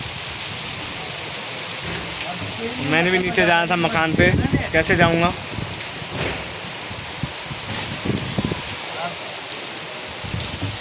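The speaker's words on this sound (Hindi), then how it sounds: "बारिश हो चुकी है बहुत तेज़" Heavy rain pours steadily with a constant hiss, while someone talks briefly over the downpour.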